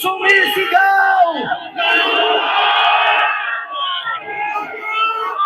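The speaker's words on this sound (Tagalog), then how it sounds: "ang taong bayan, sabay-sabay, sumisigaw" A large rally crowd at Liwasang Bonifacio shouts and chants together in loud, sustained waves of massed voices, with a brief dip before the yelling swells again.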